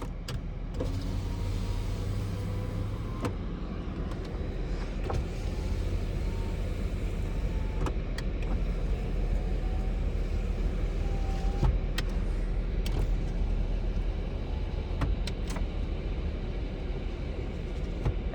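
Power windows in a 2007 Suzuki XL-7 all-wheel-drive SUV run up and down several times in turn, each a smooth motor whine ending in a sharp click, heard inside the cabin over a low steady hum.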